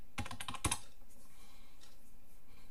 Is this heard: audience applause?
no